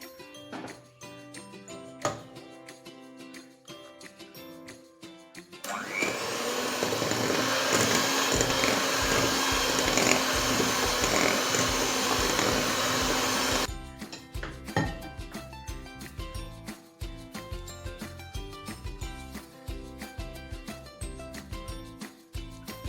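An electric mixer beats cake batter with flour for a vanilla chocolate cake, a loud steady whirring run of about eight seconds framed by quieter kitchen clatter and tapping before and after.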